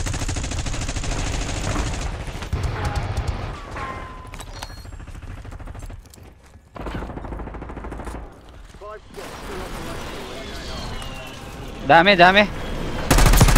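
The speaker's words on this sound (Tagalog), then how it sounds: "May bumabaril sa ano, sir." Rapid automatic gunfire and single shots from the shooter game Black Ops 6 rattle in repeated bursts, with a loud cluster near the end, while players talk over the fighting.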